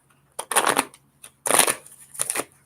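Oracle cards are shuffled in three quick bursts of riffling and flicking during a card reading, close up, separated by short silences.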